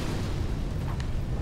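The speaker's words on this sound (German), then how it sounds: "Natürlich die Explosion." A dull, rumbling blast from an explosion in Dark Souls III, with heavy low-end thud and noisy crackle, sustained and loud, with no voices.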